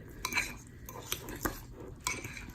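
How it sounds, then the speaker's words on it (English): Egg salad mixture is stirred in a bowl, with a few sharp utensil clinks and scrapes against the dish spaced irregularly over a quiet background, close up and without talk. "And then you're gonna stir to try and integrate those liquids in."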